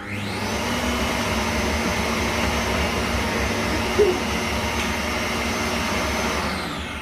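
A Kenwood stand mixer creams ingredients for cookies, giving a steady, close, continuous motor whir with a rough churning layer and one small knock partway through.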